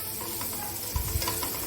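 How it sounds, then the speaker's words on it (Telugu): Chili powder, turmeric, garam masala and coriander powder fry in a pan for an egg paneer curry, a continuous close sizzle broken by a few scraping stirs partway through. "వేసుకొని కొద్దిసేపు వీటిని వేయించుకోవాలి"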